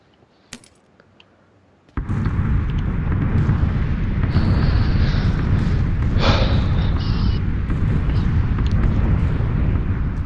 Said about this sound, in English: You're about to get bombed